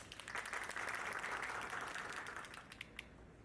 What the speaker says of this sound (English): the team of Q&I needs a great round of applause.